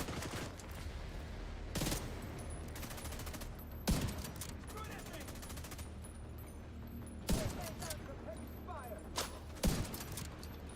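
Rapid gunfire bursts ring out in the Bleach Soul Resonance video game while firing at shielded enemies, with repeated volleys and sharp single shots over steady game noise, and someone talking throughout.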